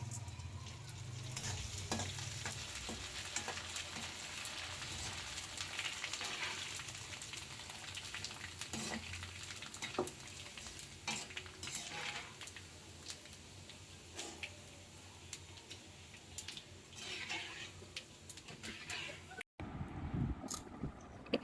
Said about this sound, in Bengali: এখন এই ভাত শুকাইছে, চালগুলা ভেজে নিব